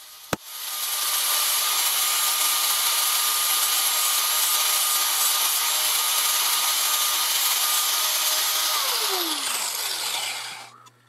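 Steel knife blade being worked by hand with a file or sandpaper, a steady continuous abrasive rasping that runs loud and close for about ten seconds, then tapers off at the end.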